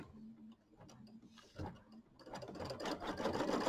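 An embroidery machine stitches a tack-down line on fabric, its needle ticking in a steady mechanical rhythm that grows denser and louder toward the end, quiet and close with no voices.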